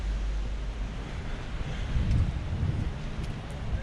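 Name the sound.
strong wind at the beach in Peguera, Mallorca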